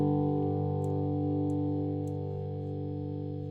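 A sustained, heavily processed electric guitar chord rings steadily through a Two Notes Torpedo speaker cabinet simulator with an amp-like tone and faint chorus shimmer, slowly decaying.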